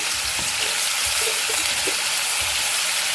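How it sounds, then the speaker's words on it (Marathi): Paneer pieces frying in a pan of hot oil give a steady, dense sizzle that runs through the whole moment, with faint low thumps from the pan underneath and no voice. "इकडे आपण हे पनीर घेतलं होतं ना ते सगळं आपण तेलामध्ये सोडायचं आपल्याला"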